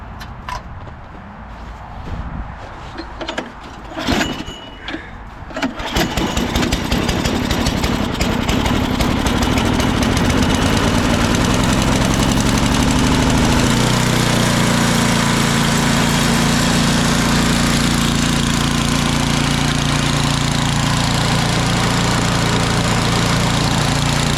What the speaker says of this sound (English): let's give it a cold start.